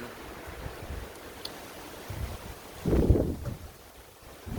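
Outdoor wind blows in soft, steady gusts with rumbling microphone buffeting, swelling into one stronger gust near the end.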